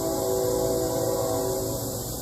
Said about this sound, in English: We're going to let that train go by while we install these legs in the hole.